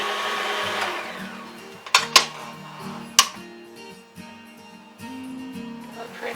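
Electric beater whirring through mashed potatoes with milk, a steady mid-level motor drone with shifting pitch, a few sharp clacks of the beaters against the bowl, and brief pauses before the motor picks up again.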